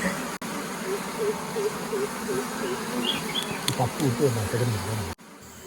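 Dense, continuous buzzing of many honey bees close by, a low droning hum with faint voices in the background.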